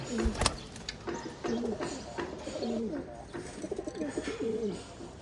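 Pet pigeons coo in soft, repeated rounds close by, with a sharp tap near the start and quiet background noise between calls.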